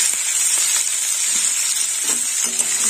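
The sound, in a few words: broad beans and potatoes added to sizzling hot oil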